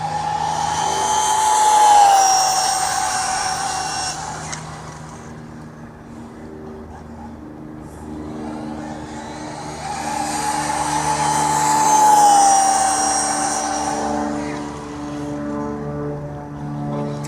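A Team Corally Python RC car on 6S power makes two fast speed-run passes, each a rising, whining electric motor swell that peaks and fades, about ten seconds apart, with steady outdoor background noise between them.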